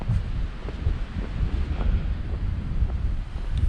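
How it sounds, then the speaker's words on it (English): Strong wind buffets the microphone on open Dartmoor moorland, a loud continuous low rumble with gusts swelling and easing throughout, no voices. "It's bloody wind."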